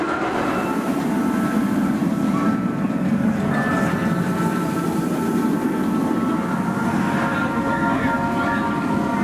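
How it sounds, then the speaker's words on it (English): Riding Swarm, a B&M wing roller coaster at Thorpe Park, with a loud, steady roar and rattle of the train on the track that continues the whole time without a break. "It's going to be the B&M wing coaster that is Swarm."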